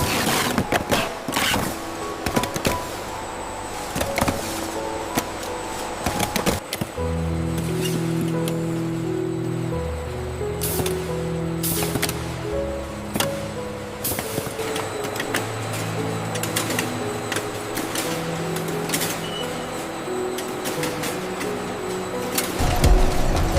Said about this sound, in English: This giant robotic arm stacks 500 cases an hour.